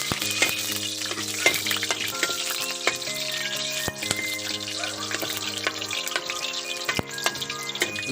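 Chopped garlic fries in hot cooking oil in a home kitchen in Bohol, Philippines, giving a steady, close sizzle broken by repeated sharp clicks and scrapes of stirring against the pan.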